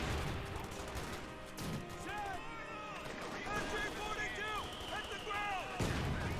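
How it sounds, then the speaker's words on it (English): Mortar rounds thud faintly a couple of times during a Company of Heroes 2 battle, mixed into a busy wash of distant gunfire and battlefield noise with a voice talking over it. "Mortar throwing down, not hitting anything."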